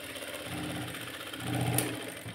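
A sewing machine hums steadily while stitching the edge of a cut-work design on a garment sleeve. The motor whirs close and continuous, swelling slightly toward the end of the brief run.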